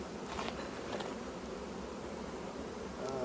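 A steady, dense buzz of honeybees from a split hive colony packed into two boxes, with a constant drone of many wings close by and no voices.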